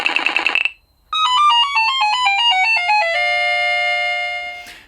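A Casio PT-87 keyboard makes a chiptune-like 8-bit sound: a short buzzy burst, a brief pause, then a bright stepping arpeggio of bleeping tones that settles into a loud held electronic tone before cutting off.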